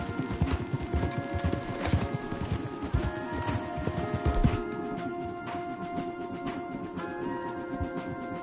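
Several horses gallop hard in Red Dead Redemption 2, the dense, rapid hoofbeats close and loud throughout, with a faint whinny and scattered rattling clatter but no talking.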